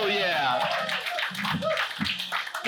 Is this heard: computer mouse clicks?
no